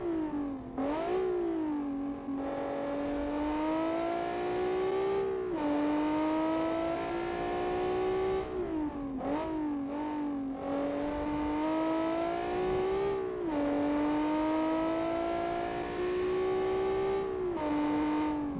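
A race car engine revving during Le Mans testing, with repeated loud rising and falling revs, sharp gear changes and several brief drops in pitch across a long stretch of near continuous engine noise, and no talking.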